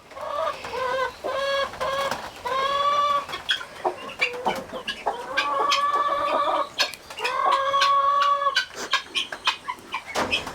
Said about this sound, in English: there's our silver Sussex laying